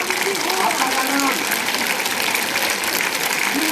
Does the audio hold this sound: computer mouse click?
no